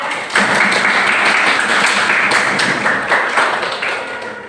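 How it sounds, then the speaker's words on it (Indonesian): A classroom group claps steadily for several seconds after a group presentation, a dense burst of applause that fades slightly at the end. "Beri tepuk tangan untuk kelompok 3"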